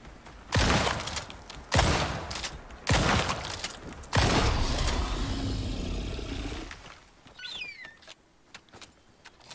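Rifle fire in the open-world survival game Icarus: four loud, sharp shots spaced about a second apart, each followed by a short ringing tail. A longer rumbling blast comes next, then quieter mechanical clicks.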